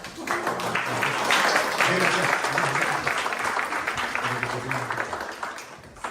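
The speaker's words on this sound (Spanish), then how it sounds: "si le podemos dar un aplauso" A church congregation claps together in sustained applause for several seconds, with voices murmuring and calling out underneath before it tapers off.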